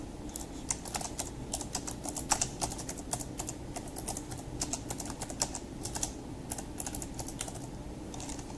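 Rapid, steady typing on a computer keyboard, with crisp close key clicks in a continuous rhythm over low background noise and no speech.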